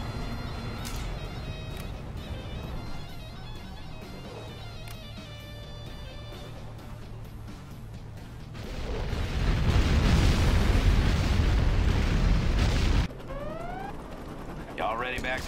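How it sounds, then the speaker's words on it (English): A particle cannon fires in the Command & Conquer Generals game, a deep, loud roaring blast that swells for several seconds over battlefield clatter, then cuts off, followed by rising whooshing tones. "Particle cannon activated."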